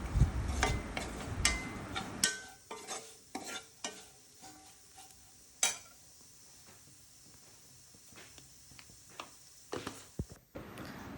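Kashmiri chilli powder and garam masala are stirred in a pan while making pork fry. A quiet, faint sizzle sits under intermittent scraping strokes from the spoon.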